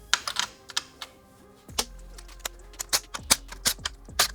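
A 10mm socket wrench loosening nuts on the fender of a 2021+ Yamaha MT-09 gives sharp, close clicks, first in scattered short bursts and then in a quicker run, with a low hum beneath and no speech.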